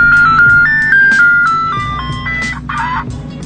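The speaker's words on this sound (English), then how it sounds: "there goes Alex with the ice cream" An ice cream truck plays its jingle melody, a bright tinkling tune of steady notes that grows slightly fainter as it passes, with low vehicle rumble underneath.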